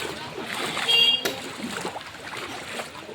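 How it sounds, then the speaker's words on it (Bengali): Sea waves splash and churn steadily at close range, a broad rushing wash with a louder surge near the start that settles into continuous watery noise. "দেখো ঢেউ উঠছে কিরকম"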